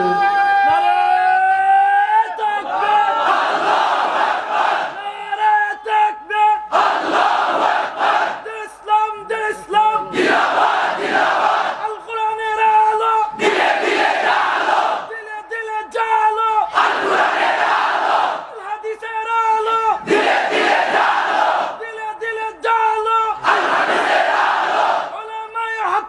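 A crowd at an Islamic waz gathering chants a slogan back in loud, rhythmic bursts, one leader's line alternating with the massed response again and again over a steady hum.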